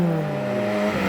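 A Lada Zhiguli engine revs hard at high speed during a race, a loud, sustained tonal whine held for about a second with a slight pitch shift near the end.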